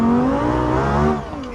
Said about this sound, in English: the volume of this car is actually quite loud, so I hope you like loud inline 5 engines